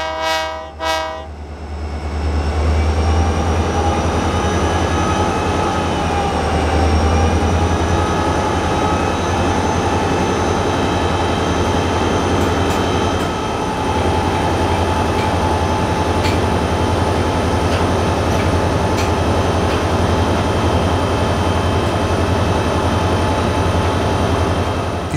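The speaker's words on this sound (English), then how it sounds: "Just listen to the roar of these classic diesel locomotives working hard to get their loaded freight train on the move." Heavy 1964 diesel locomotives, built for the Ann Arbor Railroad, roar loudly and steadily as a loaded freight train pulls away in Southeast Michigan, a deep low rumble with a brief horn-like blast at the start.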